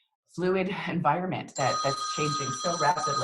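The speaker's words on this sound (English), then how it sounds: "So sorry about the phone there." A telephone rings with a steady bright bell tone under a woman's ongoing speech, starting partway through and continuing to the end.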